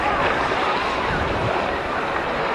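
Surf rolling onto a white sand beach at Hermits Cove in Aloguinsan on a choppy sea, a steady close wash of waves with wind buffeting the microphone throughout.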